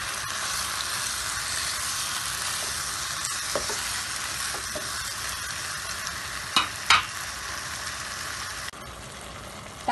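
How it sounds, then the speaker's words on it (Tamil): Tomatoes sautéing in a pan after curry leaves have been fried, cooking down for tomato thokku, hiss with a continuous loud sizzle, broken by a couple of brief stirring scrapes and clinks. "கருவேப்பிலை பொரிஞ்சதும் தக்காளியை சேர்த்துட்டேன். தக்காளி நல்லா வதங்கட்டும்."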